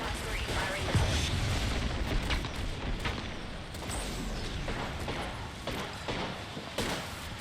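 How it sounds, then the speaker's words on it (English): Missile launch and gunfire in the Apex Legends shooter game, a dense stretch of booming, crackling fire with sharp bursts over continuous battle noise, no talk. "Class 3, firing missile"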